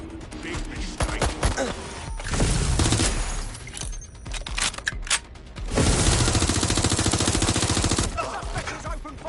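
Heavy video-game gunfire in a police shootout, dense bursts of loud shots and automatic fire cracking back and forth, with brief lulls and a shouted voice at moments.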